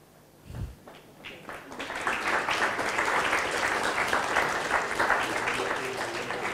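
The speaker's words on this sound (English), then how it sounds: "Once again, may we have a round of applause for them" Audience applause for a panel at a walkable-city event, starting with a few scattered claps and a thump, then swelling into steady, dense clapping from a sizeable crowd that holds loud to the end.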